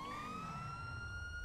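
A police car siren in GTA 5 with the LSPDFR police mod, a steady rising electronic wail sounding loud and continuous over low engine rumble, with no talking.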